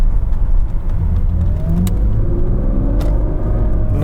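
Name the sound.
Audi A8 car accelerating, hydraulic pump whining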